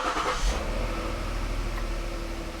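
A Ford Flex's 3.5 EcoBoost engine cranks and catches, with a loud start burst and a brief rev that settles into a steady close idle. No one talks over it.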